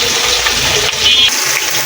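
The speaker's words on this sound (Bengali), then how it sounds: "এই তো এখানে আরেকটি মাছ ভাজা বসাই দিচ্ছি।" Another piece of fish fries in oil with a steady, loud sizzling hiss that dips briefly midway before carrying on.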